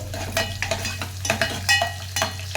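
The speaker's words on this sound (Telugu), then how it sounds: "ఇది వేగుతున్నాయండి" Garlic pieces frying in a pan, a steady sizzle with intermittent stirring scrapes and clinks recurring every half second or so, close and fairly loud with no voices.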